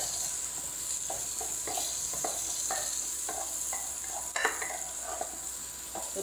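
Onions fry in a little oil with an even, close sizzle, while a utensil stirs and scrapes the pan in short, fairly regular strokes.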